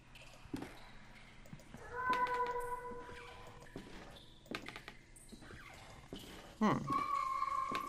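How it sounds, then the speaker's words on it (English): A cat meows in a video game, with a few drawn-out, pitch-bending cries standing out over scattered taps and faint background noise. The last meow is the loudest. "The cat's meow is louder here."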